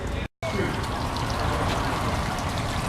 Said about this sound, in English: Nice little waterfall they have here.